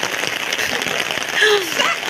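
Heavy rain hisses down during a karakol street procession in Carsadang Bago, Imus, Cavite, a dense steady patter with a voice briefly sounding over it near the end.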